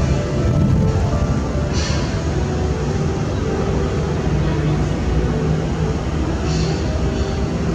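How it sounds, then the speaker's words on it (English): An Air New Zealand Boeing 777-200 airliner heard from an observation deck, a loud steady broadband roar of jet engines filling the whole stretch without letting up. "777-200. Flight number NGZ80 from Hong Kong to Italy."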